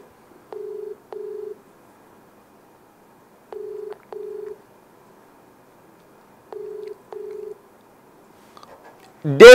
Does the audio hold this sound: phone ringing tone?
yes